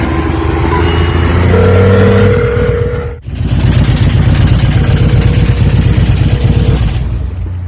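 A motorcycle engine idling loudly and close on a street corner during a confrontation, a steady throbbing rumble that briefly drops out near the middle, then resumes at a constant idle with no talking.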